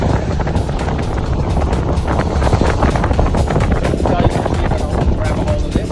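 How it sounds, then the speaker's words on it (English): Strong wind buffets the microphone in a constant heavy roar aboard a Catalina 22 sailboat, with a voice faintly audible beneath the gusts. "It's windy today."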